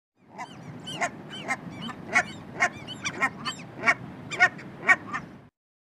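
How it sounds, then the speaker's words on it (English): Canada goose honking, a series of about a dozen loud, nasal honks in an uneven rhythm, close and clear with no other sound around them. "Canada goose."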